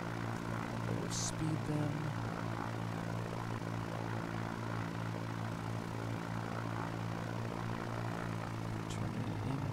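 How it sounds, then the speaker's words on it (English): A propeller aircraft engine in the X-Plane 11 flight simulator during a short takeoff and landing attempt at Valdez, a steady, even droning hum throughout with a brief spoken line over it. "Slow way down. Flap one, flap two."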